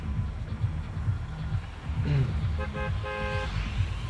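Car horn honking in Fortnite, a few short toots followed by a longer blast over a rumbling engine and game background.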